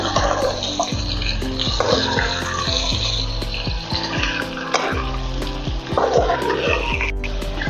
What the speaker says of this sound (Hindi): 1 प्याली हम इसमें भर के पानी की डाल रहे हैं